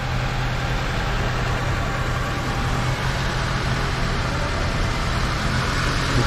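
A freshly started surplus engine runs steadily, close and loud, with a low rumbling idle and faint irregular stumbles from a slight misfire, no voices over it.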